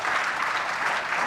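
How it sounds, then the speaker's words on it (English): A crowd at an awards ceremony breaks into steady, dense applause, loud and continuous throughout with no talking over it. "big round of applause for these guys for making it work"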